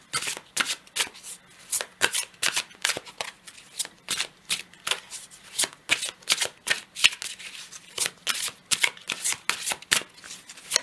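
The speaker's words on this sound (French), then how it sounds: "On va prendre une carte pour chaque tas." Tarot cards being shuffled and dealt into piles, a rapid irregular series of crisp riffling and slapping card sounds, close and steady throughout with no talking.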